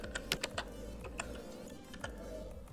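Keys tapped on a computer keyboard while typing text into a Filmora 9 editing project, a handful of close, distinct clicks over a low background hum.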